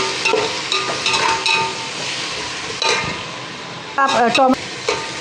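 Two large chopped tomatoes are sautéed with onions in a pan for veg dum biryani, giving a steady close sizzle broken by scraping stirs and spatula knocks, with a brief voice speaking near the end.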